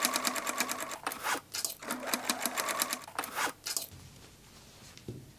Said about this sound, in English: Secure with sewing clips, and stitch on the sewing machine